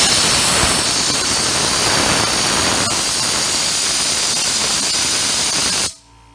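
A hyper mini steam boiler runs at around 200 PSI, giving a loud, steady roaring hiss that fills the whole clip before cutting off abruptly near the end.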